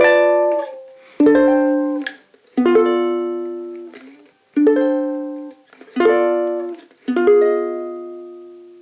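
Six strummed guitar chords, each ringing out and fading before the next, shifting shape in a steady moving pattern; no voices.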